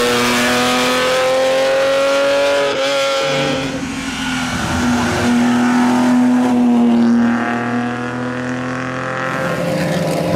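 A Ferrari 3-liter V12 sports car producing 275 horsepower revs and accelerates loudly and close by, its pitch climbing, dipping and rising again across the stretch with no talk.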